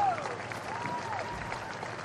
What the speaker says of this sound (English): would you give a welcoming round of applause to our World Grand Championship contenders tonight?